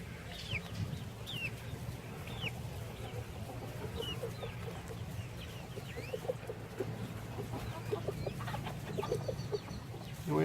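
Young chickens cluck and chirp softly around a backyard coop in a Deep South Texas garden, scattered calls over a steady low hum of ambient outdoor noise.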